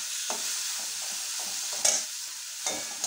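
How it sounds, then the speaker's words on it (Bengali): Shrimp fry in a spiced masala, a bright steady sizzle with a few soft stirring scrapes and one sharper clink of the utensil against the pan. "চিংড়ি মাছ দিয়ে দিয়েছি। এবার একটু ভালো করে কষিয়ে নিই।"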